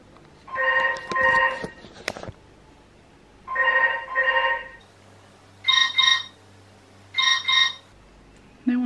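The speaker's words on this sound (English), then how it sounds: "No one answers the house phone." A house telephone rings in repeated paired trill bursts, with an earlier ring pattern followed by higher-pitched double rings, fairly faint with quiet gaps between.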